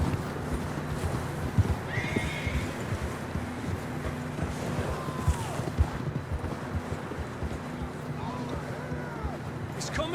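Horses gallop with steady clip-clop hoofbeats and neigh in the open world of Red Dead Redemption 2, with wind noise and intermittent speech over the hooves.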